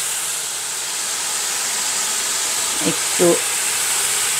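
Garlic paste sizzles in hot mustard oil for biryani, a steady bright hiss that fills the whole stretch at even loudness, with a brief spoken word near the end.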